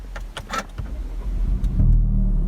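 A Volvo V60 Polestar engine starts, a short crank followed by a steady low idle rumble that swells at the end, recorded from inside the car with a few small clicks beforehand.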